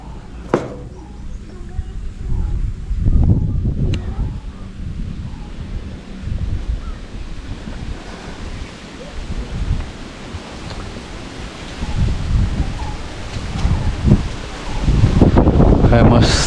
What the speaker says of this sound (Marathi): मस्त वारा सोडला आहे